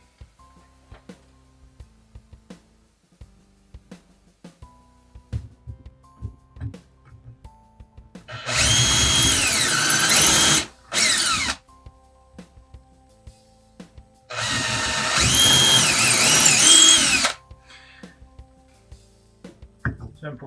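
Power drill driving screws into a leg of a bench built from recycled wood, heard as two loud whirring bursts of a few seconds each, the first briefly interrupted, separated by a quiet stretch with faint handling clicks.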